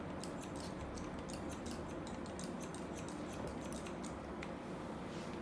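Scissors cutting hair during a layered haircut, giving quick, light snips and clicks in an irregular rhythm, close and fairly soft, with no talk.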